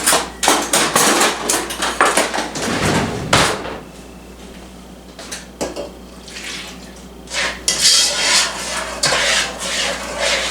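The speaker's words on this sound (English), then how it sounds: "We're going to stir this in." A spoon stirs a Hershey's cocoa fudge mixture with milk in a pan, producing loud, close, repeated scraping knocks against the metal that ease off through a quieter middle stretch before picking up again.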